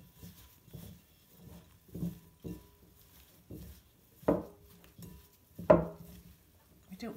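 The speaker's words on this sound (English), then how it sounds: "give it a good mix" Lamb and feta meatball mixture being mixed by hand: soft, muffled squelching pushes repeat at a steady pace, close and quiet, with a couple of sharper slaps.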